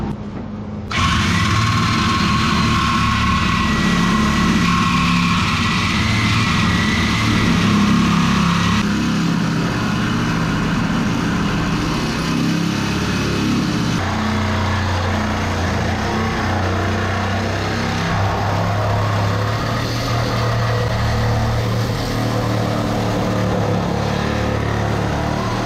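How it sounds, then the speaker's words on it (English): A Sawzall reciprocating saw cuts through a car body beside the body mount, a sustained harsh buzzing drone that starts abruptly and runs loud and steady for over twenty seconds, with no speech. "I'm going to take my sawzall right through this here."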